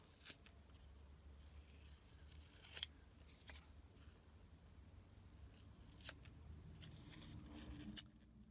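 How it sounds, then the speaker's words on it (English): Faint, quiet snips of scissors cutting paper, a handful of crisp cuts spaced irregularly, with soft rustling between them. "Probably should have used my smaller scissors to cut these out."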